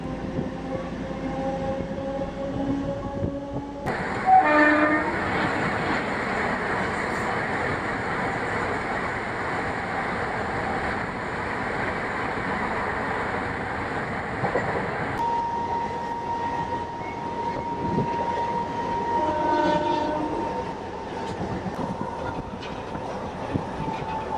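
A Hindupur–Guntakal DEMU train runs steadily, its continuous rumble and rail clatter filling the whole stretch with a louder, denser roar in the middle section. No voices are present.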